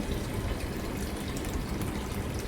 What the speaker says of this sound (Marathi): 2 ते 3 वेळा पाण्याने स्वच्छ धुवून घ्यायचे आहेत.